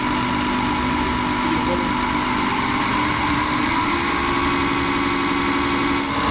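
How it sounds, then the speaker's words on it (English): A diesel fuel injection pump runs steadily on a test bench with a continuous mid-pitched mechanical drone and faint knocking vibration, loud and unbroken throughout. "So it's only testing the pump at the moment"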